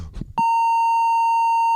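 A censor beep cuts in after a short burst of muffled sound, a single loud, pure electronic tone that holds steady to the end.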